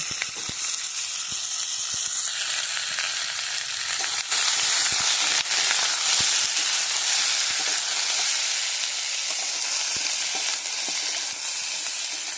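Cut pumpkin, potato and carrot sizzle in hot oil for a village-style mixed vegetable curry. The frying hiss stays dense and steady throughout, broken by occasional sharp pops and the scrape of stirring.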